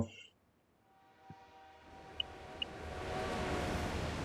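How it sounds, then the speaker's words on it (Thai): A train rushing upward into the sky in a video game, a low rumble swelling steadily from near silence into a loud rushing roar, with a couple of faint beeps along the way. "ตอนนี้รถไฟสายโอโตะ กำลังพุ่งทะยานเข้าสู่น่านฟ้า"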